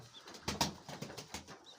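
Pigeons gathered at home on a winter day before leg-ringing, heard up close as a few soft fluttering bursts and shuffling sounds, with no talking.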